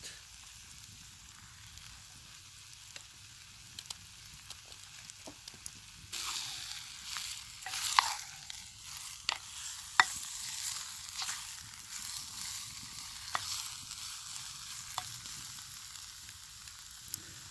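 Potatoes and carrots sizzle steadily while frying in a pan for goulash, a continuous close hiss broken by occasional clicks and scrapes from stirring, with no talking.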